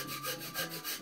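A hand saw rasps through wood in quick, even back-and-forth strokes, quiet and close with no talking.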